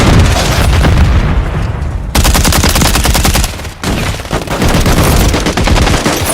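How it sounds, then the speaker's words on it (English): In the Call of Duty MW3 video game, rapid bursts of loud automatic gunfire mix with a heavy grenade blast, and dense overlapping shots fill the whole stretch without pause. "Throwing grenade! Throwing grenade!"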